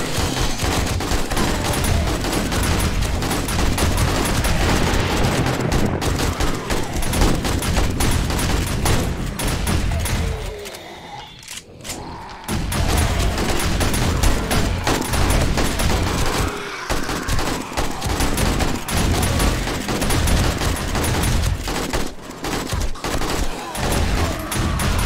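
Sustained loud gunfire from the video game 7 Days to Die during a zombie horde, rapid shots pounding almost without pause, broken by one short lull midway.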